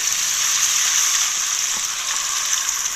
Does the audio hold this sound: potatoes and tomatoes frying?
yes